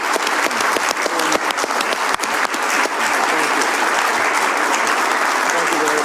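Loud audience applause at a live event where NVIDIA's CEO speaks on US leadership in AI: dense sustained clapping from many people filling the room, with a few sharper individual claps standing out early and voices mixed faintly underneath.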